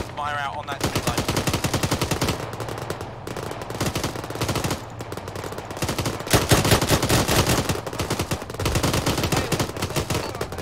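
Sustained machine-gun fire in a military shooter game, dense rattling bursts repeating over the whole stretch with brief lulls, loud and close, a voice briefly shouting early on.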